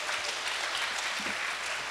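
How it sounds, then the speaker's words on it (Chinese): An audience at an open-source technology conference claps together after a talk, a dense, even burst of applause that fills the room at moderate distance. "再次掌声感谢 Anthony 帮我们带来的这场演讲"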